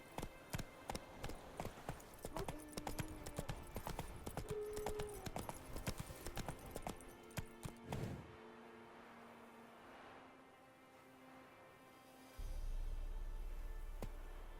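A horse gallops in The Witcher 3, with fast, rhythmic clip-clop hoofbeats up close for about eight seconds, then the hooves stop and only a faint hum and a low rumble remain.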